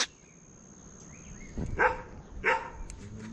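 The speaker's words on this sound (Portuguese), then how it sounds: "Cachorro do vizinho bem louco." A neighbour's dog barks twice in quick succession at moderate distance, short sharp yaps rising out of a quiet outdoor background.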